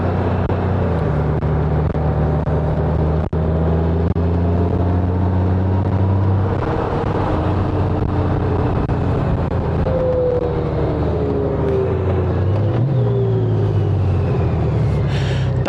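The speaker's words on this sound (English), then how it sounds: "Downshift, manual downshift" A car's engine drones continuously while riding in traffic on the way to a car show, its pitch sliding down and rising again through a manual downshift, with road rumble underneath.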